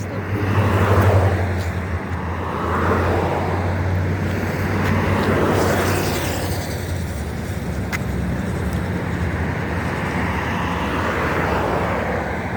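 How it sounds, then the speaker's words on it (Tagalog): Steady roadside traffic with several vehicles rolling by on a busy street, a continuous rumble that swells and fades as cars pass close, with no voices. "Nagdadaan sa kalsada, maraming sasakyan."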